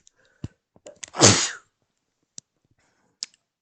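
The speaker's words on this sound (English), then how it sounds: "oh god, I need to sneeze." A single loud, close sneeze from a person at a desk, a sharp burst preceded and followed by faint small clicks and breaths in an otherwise quiet room.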